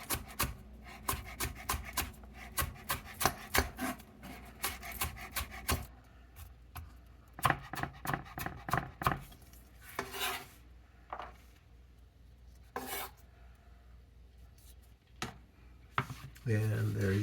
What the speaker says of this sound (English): These you're going to cut on the bias, so basically at an angle.